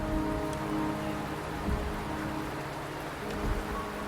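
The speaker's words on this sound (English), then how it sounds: "The rain is subsiding, and the sky will soon clear." Steady rain falls in the video game Wuthering Waves, a dense, even hiss of drops on surfaces. It holds at a moderate level for the whole stretch, with a couple of faint low rumbles and no talk.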